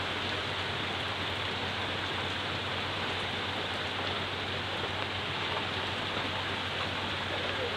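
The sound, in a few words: rain falling at a work site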